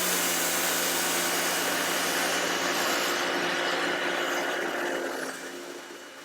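AVA Go P55 pressure washer with a vario nozzle spraying a wall, a loud, steady hissing rush of water jet and motor hum that tapers off near the end.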